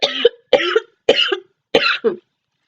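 Four loud, close coughing fits in sequence, each a sharp burst with a short tail, the last one doubled into two quick coughs, separated by silent pauses.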